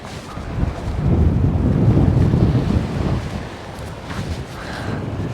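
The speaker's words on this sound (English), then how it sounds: "It's a nice evening, it's not going to rain, it's just windy again." Gusty wind buffets the microphone on a UK beach on the Bristol Channel with a low, rushing roar that swells and eases, and surf washing faintly underneath.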